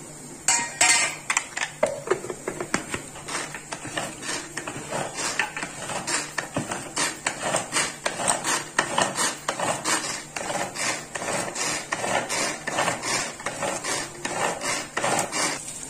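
A spoon scrapes and taps repeatedly against a pan while ginger garlic paste is stirred for pepper chicken, giving close, rhythmic metallic clinks and scrapes with no talking.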